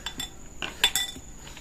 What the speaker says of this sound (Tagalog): Yan, hinahalo na po ni Papa.